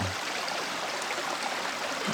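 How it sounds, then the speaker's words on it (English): A small creek along the Mission Peak hiking trail rushes steadily, a continuous broadband hiss of flowing water that stays even and fairly loud from start to finish, with no voices. "A nice little creek. You can hear it quite a ways before you actually see it."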